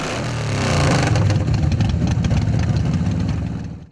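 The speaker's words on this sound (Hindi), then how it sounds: "उन्होंने बाइक स्टार्ट करके बाइकर्स की हौसला अफजाई की।" A motorcycle at a bike show runs at a loud, close rumbling idle with slight throttle swells, the engine noise continuous before cutting off abruptly at the end.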